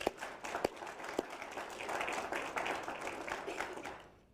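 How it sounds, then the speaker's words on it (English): A crowd at an announcement event for a city river run applauds for volunteers, starting with a few sharp separate claps that swell into full, steady applause and then fade away at the end. "So a big round of applause to our volunteers."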